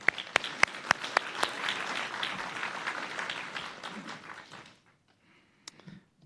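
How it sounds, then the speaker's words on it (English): Applause at an awards ceremony, with a few sharp, close claps standing out over a broad crowd clapping that fades to near silence, followed by a couple of isolated late claps. "let's give another round of applause to NAWO"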